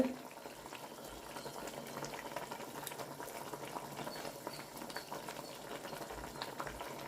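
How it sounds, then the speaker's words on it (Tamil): Steady bubbling of salted water at a rolling boil in a pot, a continuous close churning with no talking. "சூப்பராக கொதிக்குது பாருங்கள் தண்ணி"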